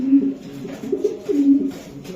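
Racing pigeons coo in soft, low, repeated phrases close by, several overlapping calls over a quiet background.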